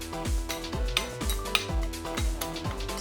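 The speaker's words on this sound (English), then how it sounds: "Stir to combine everything evenly." A utensil stirs a homemade body scrub mixture in a bowl, with quiet, regular scraping and soft clinking about every half second, close up and without any voices.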